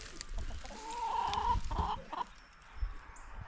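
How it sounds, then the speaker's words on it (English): Backyard homestead chickens cluck softly and intermittently up close, a few short calls rising over a quiet outdoor background. "We're gonna go check on our chickens, see how they're doing."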